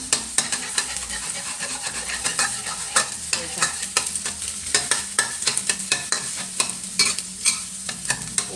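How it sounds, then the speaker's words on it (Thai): Eggs are stir-fried in a pan for a ridge gourd and egg dish, with rapid, rhythmic spatula scrapes and clacks repeating over a steady close sizzle throughout, no talking. "ผัดไข่ไว้แบบนี้ก่อนนะจ๊ะ"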